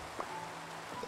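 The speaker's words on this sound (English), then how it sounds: "Rain is rain, dude." Steady rain hiss in the Minecraft video game, a soft, even wash of falling drops that stays faint and constant throughout with no voices over it.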